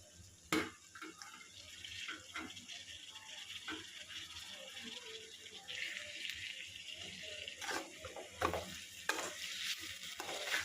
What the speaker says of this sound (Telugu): టమాటాస్ అయితే వేసుకుందాం, మనం కట్ చేసి పెట్టుకున్న టమాటాస్.